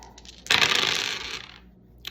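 Dice rolled during a demonstration of a tabletop game, a bright rattling clatter that rises sharply, tumbles for about a second and fades, followed by a small final click, with no talk.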